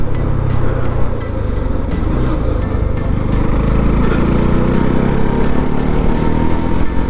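A Pulsar NS motorcycle engine runs loud and close, a dense steady roar with rising pitch sweeps as it builds revs, under a rapid rhythmic ticking.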